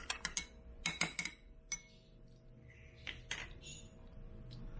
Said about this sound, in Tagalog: Haluin lang natin.